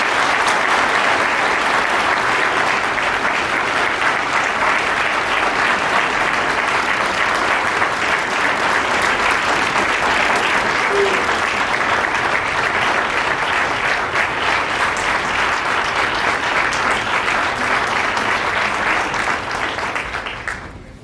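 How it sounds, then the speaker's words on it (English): A large audience gives a sustained, loud round of applause at a college ceremony announcing an Apple Distinguished School award, steady for about twenty seconds before tapering off. "Please, a round of applause."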